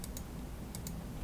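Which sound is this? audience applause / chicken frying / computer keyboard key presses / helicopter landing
computer keyboard key presses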